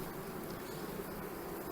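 A honeybee colony gives a steady, faint, continuous buzz with no talk over it.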